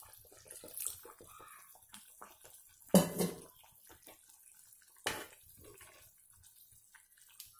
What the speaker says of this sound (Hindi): और इसके अंदर थोड़ा सा पानी डाल लीजिए।